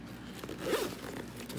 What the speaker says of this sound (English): And then zip that off.